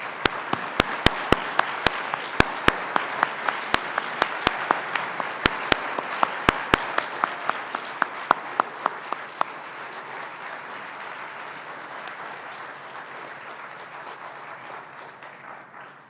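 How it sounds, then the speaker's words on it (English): An audience at a student leadership academy's senior colloquium applauds warmly. Loud, crisp individual claps stand out early, then settle into a steady, even round of clapping that slowly fades toward the end. "If we could give our 2017 cohort a warm round of applause for that phenomenal colloquium."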